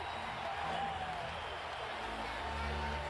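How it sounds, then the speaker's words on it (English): The Lakers' home crowd roars at a regular-season basketball game against the Celtics, a broad, steady wash of cheering and applause heard at a distance with a low rumble underneath. "And the Laker crowd explodes early"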